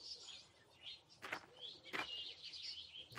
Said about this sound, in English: Let's chirp like those birds.